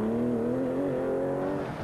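Opel Manta rally car engine at dusk on a rally stage, a steady loud drone with a slowly rising and falling pitch, close and continuous with no talk.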